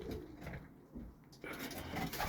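Birmingham roller pigeons in a loft, soft cooing and rustling close by with bursts of fluttering, while a person speaks quietly.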